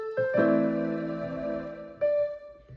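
A minor from a theme sounds as a few separate plucked notes that blend into a ringing chord, followed by another struck note near the end; clear and close, no talking.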